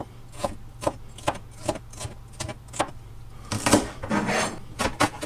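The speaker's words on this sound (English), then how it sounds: "Now we only need about half the pepper, and exactly the same, chop it up into 1 centimetre square chunks." Knife chopping half a red pepper into centimetre-square chunks on a cutting board, a run of sharp, regular taps close up, closing in a quicker flurry of cuts.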